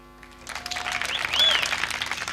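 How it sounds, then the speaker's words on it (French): An audience at an open-air slam event facing the Eiffel Tower applauds a slam poet, clapping building from quiet to a dense, lively wash with a faint whistle partway through. "vous pouvez l'applaudir."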